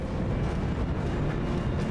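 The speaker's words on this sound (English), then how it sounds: "We are actually getting kills with that cannon." Cannon fire and explosions in the BattleTech video game with the RogueTech mod make a dense, continuous booming rumble that stays loud and heavy throughout, with no voices.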